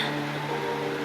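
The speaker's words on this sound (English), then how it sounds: "This is the sound of rain." Steady rain in the video game Honkai: Star Rail hisses as a dense, continuous wash with a low tonal hum beneath it, filling the whole short moment without any voices.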